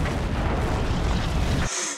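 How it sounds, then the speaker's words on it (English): Battleship main guns firing on a U-boat during a Pearl Harbor assault in Silent Hunter, a sustained heavy roaring blast that cuts off abruptly near the end, loud and close. "They're shooting at us with the main guns of the battleship"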